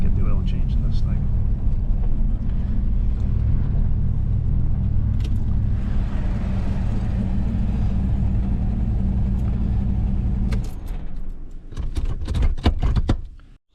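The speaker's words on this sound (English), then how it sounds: "I'm just pulling up to the garage here" A Pontiac car pulls up to a garage, its engine giving a steady low rumble up close for most of the run, then easing off as clicks and handling noises follow near the end.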